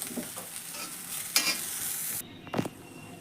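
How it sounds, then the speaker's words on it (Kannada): Oil tempering for North Karnataka cluster bean palya crackles and sizzles in short, uneven bursts nearby, then drops abruptly quieter before one last brief hiss, with no voices. "ಈ ಥರ ಹೊರಗಾವ ಸಾಕು ಒಗ್ಗರಣೆ ಹಾಕೊಂಡ್ರೆ"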